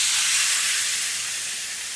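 Milk poured into a hot pan of darkened gravy hisses and steams, a bright, loud sizzle that fades slightly over two seconds.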